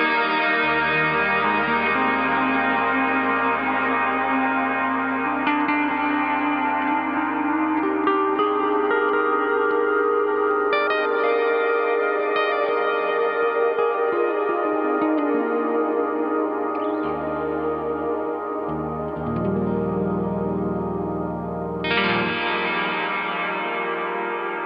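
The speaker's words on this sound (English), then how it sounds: "with the massive long reverb sounds, it'll make your notes pop through" An electric guitar plays sustained notes through a Chase Bliss Dark World dual channel reverb pedal with maximum pre-delay and a massive long decay, the notes blooming and smearing into a dense wash that changes with each chord.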